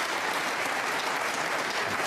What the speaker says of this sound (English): Appreciated by this very knowledgeable crowd here at York.